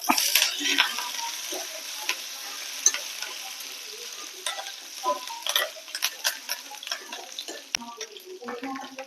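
Curry leaves and onion sizzling in hot oil in a pan while rasam is being made, with crackling pops and stirring scrapes that sound close and fairly loud throughout.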